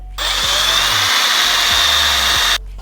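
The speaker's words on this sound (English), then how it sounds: "Now we're just gonna drill into these holes." A power drill bores holes in a pickleball paddle, a loud, steady high-pitched whine running for about two and a half seconds, close by and alone.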